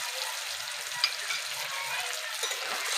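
Boiled mung dal with fried ginger, salt and a little sugar is stirred in a frying pan, giving a soft, faint sizzle with light scraping and a few small taps of the spoon.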